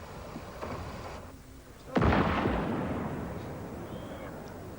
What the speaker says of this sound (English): Rather than move some of the explosives, the decision was taken to destroy them.